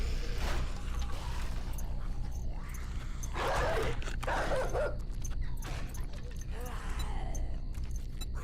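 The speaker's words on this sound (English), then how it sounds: "I hear, like, a dog every other second." Dogs in the survival video game 7 Days To Die, with repeated barks and yips coming in short bursts over dense, noisy game audio that stays loud the whole time, and a voice briefly talks over it.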